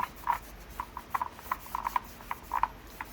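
Cloth rubbing a squirted product over the body of a Stihl chainsaw, close up: a series of short, squeaky rubbing strokes in an uneven rhythm, with no talking.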